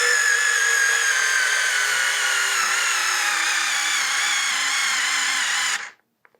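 A HOTO 3.6V electric screwdriver driving a long screw into wood, a steady close whirring motor whine that drops slightly in pitch under load for about six seconds, then cuts off abruptly and is followed by a faint click.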